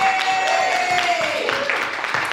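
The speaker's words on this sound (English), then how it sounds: "Give them a big round of applause" An audience of women at a ladies' night hypnosis show breaks into loud, dense clapping and cheering that fills the whole moment. A voice and a faint tonal sound run underneath.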